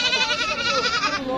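A goat bleats loudly and close by in a wavering, quavering cry that lasts just over a second at a busy livestock market, with no talking over it.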